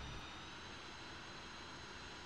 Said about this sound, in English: So now with the left engine started